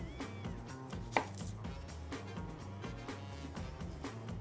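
A knife chops through a red onion on a cutting board in a home kitchen, steady repeated cuts with one sharper knock, no talking.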